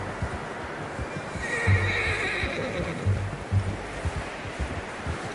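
A horse in Red Dead Redemption 2 whinnies loudly nearby amid steady clip-clopping hooves, with a faint wash like surf in the background.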